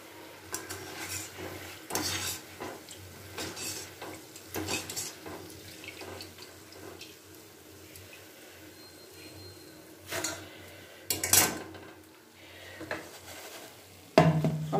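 Crisp fried cashew nimki are lifted out of hot oil in a pan on a gas stove: a run of intermittent scraping and clinking strokes, some louder than others, over a faint background with no voices.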